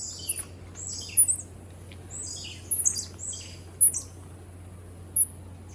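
Sharp, high-pitched chirping calls of squirrel monkeys in Costa Rica repeat every second or so over low background noise, bird-like and moderately close.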